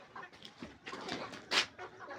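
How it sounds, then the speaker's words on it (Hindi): Chickens, including a young rooster, clucking and calling at close range on a home yard, a few short bursts and one louder squawk rising over a busy background. "ये देखें ये मुर्गा जो है ये भी जवान हो रहा है।"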